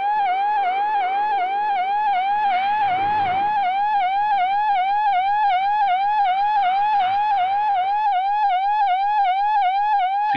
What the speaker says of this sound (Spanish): Pero si uno está en posición para oír esta sirena,